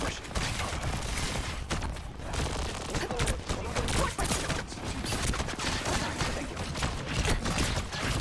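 Dense, continuous gunfire and shooting in the Marvel Rivals video game, with rocket-boosting enemies firing steadily throughout, a busy layered battle mix with a voice faintly underneath.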